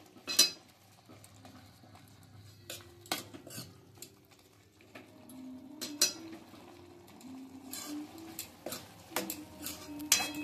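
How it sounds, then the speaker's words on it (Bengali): Boiled potato being mashed in a bowl, with a run of soft, irregular clinks and taps of a utensil against the dish at close range and no talking. "এবার আলুটাকে একটু থেসে নিচ্ছি।"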